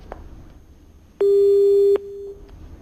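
A single steady electronic tone as a phone line disconnects sounds loudly for under a second, then drops to a quieter continuation before cutting off, with faint line hiss around it.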